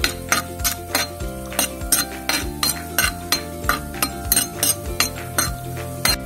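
A utensil scrapes and taps against a pan in a steady rhythm as shallots are stirred for a fish curry, each stroke a close, clear clink.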